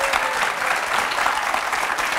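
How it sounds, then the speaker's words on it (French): Audience applause for a young dancer under ten on a French talent show, dense and steady throughout, loud and close, with no voices over it. "Je crois qu'on peut l'applaudir encore une fois."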